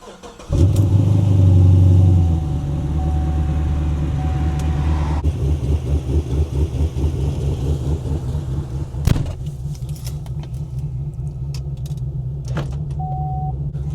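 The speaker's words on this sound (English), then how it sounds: "I'm just going to go for a little drive." A car engine starts and revs hard, then settles into a steady driving drone with rhythmic pulsing, heard from inside the car on country roads with the windows down, alone with no talk and a brief thump partway through.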